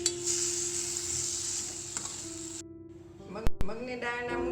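Mung dal muthiya being stirred in a sizzling tempering pan with sugar and lemon juice, a steady close sizzle with stirring scrapes that stops partway, followed by a couple of sharp clinks and then speech.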